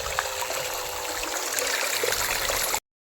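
Water gushing steadily from a newly fitted pipe tee on a farm beside a sugarcane field, a continuous close splashing rush with no break until it cuts off abruptly.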